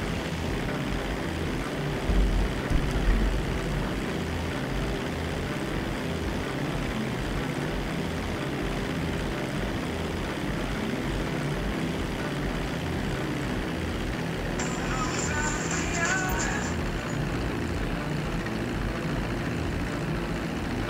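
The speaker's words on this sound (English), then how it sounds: "Plane!" A propeller airplane flying in GTA 5 Online gives a steady, loud engine drone throughout, with a brief high whistle-like tone briefly rising over it.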